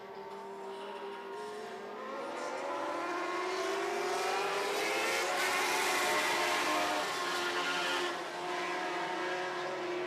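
Lightning sprint race cars roar around a track in a heat, a dense, continuous engine drone with pitch sweeps as cars pass, loud and steady with no talk.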